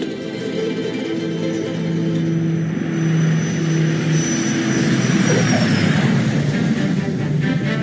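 A small propeller plane drones loudly and close at a remote Queensland airstrip, its engine note rising and shifting as it comes in to land, with no voices.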